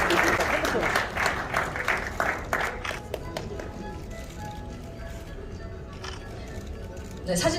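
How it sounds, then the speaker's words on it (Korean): An audience at a Korean corrections award ceremony breaks into applause, a dense patter of many hands that is loudest early and then thins to scattered claps, with people talking underneath. "박수 부탁드립니다."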